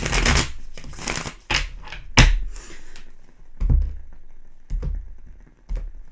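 Tarot cards are shuffled in several quick riffled bursts, each a crisp flurry of flicks and taps separated by short quiet pauses.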